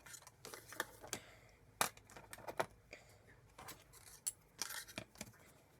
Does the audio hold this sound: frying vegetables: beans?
no